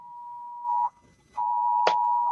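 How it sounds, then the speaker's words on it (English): A phone emergency alert tone for a public safety silver alert sounds as a loud, steady pure beep, pausing briefly once before resuming, with a short click-like burst near the end. "We got a A public safety silver alert here."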